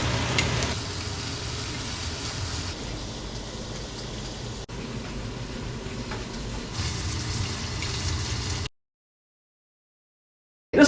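Bacon fat sizzles steadily in a hot pan while onions are sautéed for a New Year's black-eyed peas dish, a dense close crackle that holds for about nine seconds and then cuts to silence.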